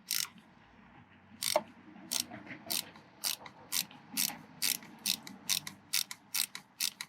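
Ratcheting wrench clicking in quick bursts while tightening the battery terminals on a 2017 Nissan Pathfinder, a dozen short close-up ratchet runs spaced evenly over light background noise, no talking.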